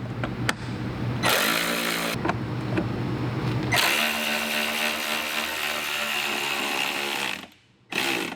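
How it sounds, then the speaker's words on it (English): Cordless ratchet tightening door bolts on a Can-Am Maverick X3 whirs in loud, sustained high-pitched bursts, first a short run, then a longer one, before stopping briefly and starting again. "Just the wrench and the cordless ratchet."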